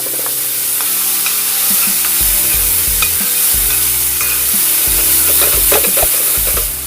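Sweet peas sizzle steadily in a hot pan while a utensil scrapes and stirs them, with loud continuous frying close up and no voices.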